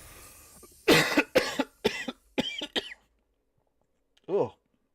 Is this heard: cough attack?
yes